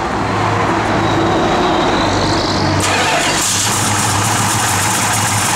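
A 1969 Plymouth Road Runner with a lumpy cam idles steadily nearby, a low uneven rumble that continues throughout, with a shift in tone partway through.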